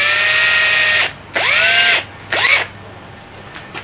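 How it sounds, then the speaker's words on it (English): Power drill boring pilot holes in wood for a rotary table box, with three bursts: a long whine, then two shorter ones with pitch rising as the motor spins up, each ending in brief silence. "I'll drill some pilot holes."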